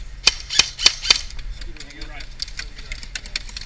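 Toy cap guns fire four sharp shots in a quick, regular rhythm during a marsh battle game, followed by fainter clicks and scattered distant pops.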